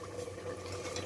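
About 50 ml of water goes into a hot cooking pan of tomatoes while radish and spinach bhujiya cooks, making a steady, close hissing sizzle with a faint bubbling of liquid. No one speaks.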